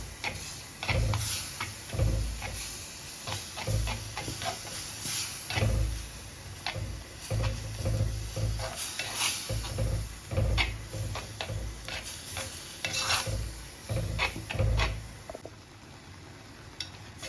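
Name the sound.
stirring beetroot pachadi with ground paste in a pan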